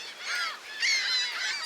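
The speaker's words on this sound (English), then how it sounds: "I have dominion over these seagulls." Seagulls call from the shore of Lake Ontario in a few overlapping, nasal cries of moderate loudness, with no talking over them.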